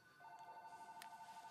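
A telephone rings with a steady electronic tone, repeating in a quick warbling pulse, faint and in the room with no talk over it.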